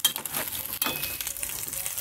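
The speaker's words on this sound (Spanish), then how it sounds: "para que se acabe de freír ahí la carne con el jitomate y la cebolla" Meat sizzling in a pan with tomato and onion, a steady close frying hiss that runs throughout, with a brief dip near the middle and faint stirring clinks.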